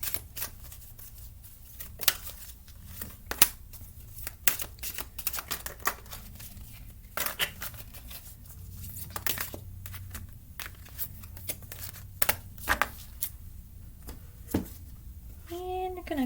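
Angel Answers oracle cards are shuffled by hand, giving repeated soft riffling and sharp flicking snaps at irregular intervals, close by, with faint background murmur throughout.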